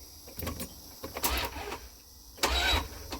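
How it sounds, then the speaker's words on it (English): A Dodge conversion van engine, just back together after a head replacement, cranks over in short bursts, with a whirring starter and engine churn in three separate pulses, close by, with no talking. "Let's see if the engine will turn over."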